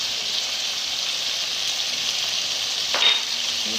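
Prawn masala with cumin and coriander sizzles in ghee while being stirred, making a steady bright frying hiss with one brief scrape of the spoon near the end.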